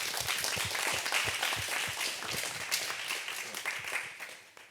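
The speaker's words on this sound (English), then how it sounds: "Let's give them a little clap." Event attendees clap for a few people, producing a full, continuous round of applause that holds steady and then fades toward the end.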